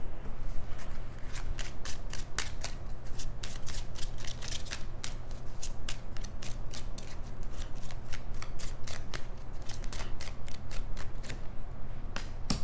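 Tarot cards being shuffled by hand, a steady run of quick, crisp riffling snaps over a low background hum, close and continuous without talk.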